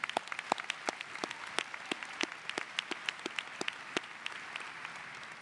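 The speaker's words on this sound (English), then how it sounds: "Round of applause for all of our honor grads." A commencement audience applauds the honor graduates, a dense steady wash of many hands clapping with sharp individual claps standing out throughout, sustained and fairly close without any voices over it.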